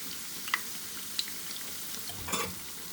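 Bread finger fries frying in hot oil until golden brown, a faint steady sizzle with a few soft clinks and stirs of a utensil against the pan, no talking.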